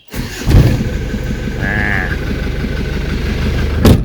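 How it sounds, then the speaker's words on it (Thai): An Isuzu TFR pickup's diesel engine idles while warming up, with a steady low rattle and hum, close and loud, with a couple of sharp knocks near the start and end. "วอร์มเครื่องยนต์สักพักหนึ่งนะครับ รถดีเซล"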